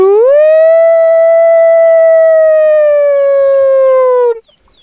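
A person imitates a loon call near a Northern Wisconsin lake while bass fishing: one loud, sustained wailing note that rises, holds steady for about four seconds, then cuts off abruptly, with no other sound around it.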